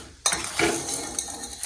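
Old silver anklets are stirred in a soda and Nirma detergent solution, clinking and swishing in a metal pot, starting abruptly and continuing as a close, jangly rattle.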